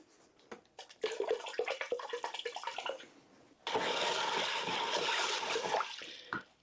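Raw apple cider vinegar being poured into a bowl, first as a splashy, uneven trickle, then a steadier continuous pour that stops abruptly, close and fairly loud with no talking.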